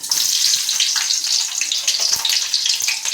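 Onions sizzle in hot oil in a pan with mustard seeds, a bright, dense crackling hiss that holds steady, with small pops scattered through it and no talk.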